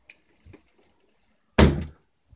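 A room door in an apartment swings open with a single solid thunk, loud and close, after a couple of faint handling clicks.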